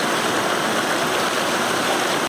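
Water spilling through the Benmore and Aviemore hydro dams on the Waitaki River roars as a loud, dense, continuous rush, close and unbroken with no voices.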